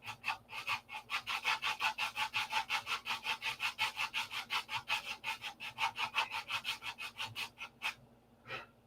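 Hand sanding the clear nose glass of a P-47 scale model, a fast regular back-and-forth rasping of about three strokes per second, close and alone, stopping near the end with a last couple of strokes.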